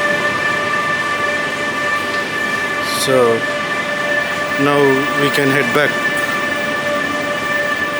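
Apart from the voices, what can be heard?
train at railway station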